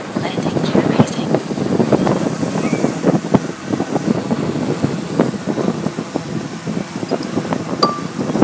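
Wind buffets a DJI Inspire 1 drone flying over the sea near a cargo ship, a rough, gusty rumble that pops and thumps against the microphone, with voices talking over it.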